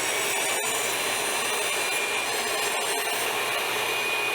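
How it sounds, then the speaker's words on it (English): A power saw makes a skimming pass along the edge of a wooden fence picket. It gives a steady, loud, continuous whine that runs the whole time with no speech. "now I'm going to take a second pass. I'm just gonna skim this edge to make sure it's nice and square."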